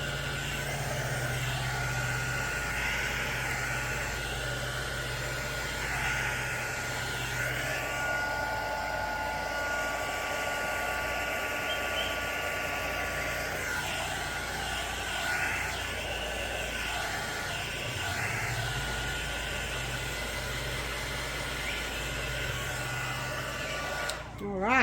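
Air blower or dryer pushing alcohol ink across a resin tray, a continuous loud rushing hiss that runs nearly unbroken for the whole stretch, with faint talk underneath.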